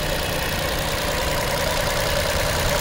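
A 2019 Volkswagen Polo 1.2 Comfortline petrol engine idles steadily, a continuous close mechanical hum with even broadband noise and no breaks or voices throughout.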